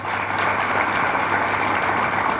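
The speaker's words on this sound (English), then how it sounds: "So really a round of applause for Dr." Steady, sustained applause from a large audience honours a guest speaker at a film festival event held in a university hall. A full crowd claps evenly throughout, at moderate distance.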